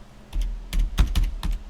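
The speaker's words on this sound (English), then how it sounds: "So if I type in grocery, let's see what's come up." Quick bursts of typing on a computer keyboard while entering a search, with irregular clusters of sharp key clacks, close and alone.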